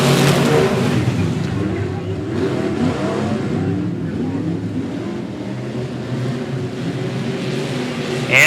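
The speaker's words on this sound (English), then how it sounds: "the lights are out, and we are green flag racing out of turn number 4." Race cars roar off at the green flag at a speedway, a dense, steady engine drone with rising revs and a broadband rumble, under a loud announcer calling the start.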